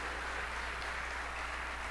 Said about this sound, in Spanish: Dele ese aplauso al Señor, por favor.